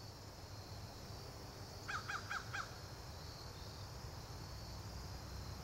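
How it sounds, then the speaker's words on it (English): A bird gives a quick run of four sharp, clicking calls, faint and at a distance, over a low outdoor hiss. "It could be a bird"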